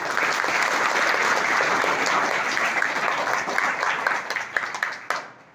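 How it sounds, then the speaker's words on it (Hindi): An audience claps loudly and steadily for the organising team at a Hindi-language public event, the dense applause running several seconds before tapering off into scattered claps at the end. "आयोजक टीम के लिए मैं तालियां चाहूंगा कि आप जोरदार से तालियां"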